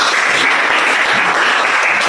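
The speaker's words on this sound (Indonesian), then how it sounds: "Tepuk tangan dulu buat Adit." Audience clapping for Adit at a school coaching session, dense steady applause filling the whole moment, loud and close with no talk.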